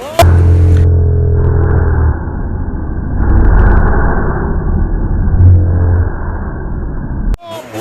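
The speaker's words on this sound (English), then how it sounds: "I'll be driving my KMX bike." A KMX dirt bike fitted with a Swallow TerraCross tire rides over roots, logs and river crossings, its engine rumbling loud and close with a revving surge midway before cutting off abruptly.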